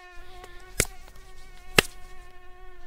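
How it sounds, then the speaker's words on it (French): Mosquitoes buzz around a tent in a steady, high, whining drone, with two sharp slapping hits cutting through the hum. "Ignatius le tire hors de la tente, mais les moustiques le poursuivent."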